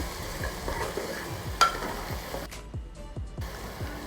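Green chillies and curry leaves sautéed in hot oil for a spicy duck gravy, a steady close sizzle punctuated by repeated stirring scrapes of a spoon in the pan, with no talk.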